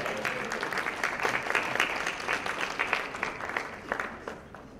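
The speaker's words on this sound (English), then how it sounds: "And while they're posing, you guys will be clapping." Audience clapping steadily at an awards townhall while former award recipients pose for a group picture, a dense, moderately loud patter of many hands sustained throughout without talk.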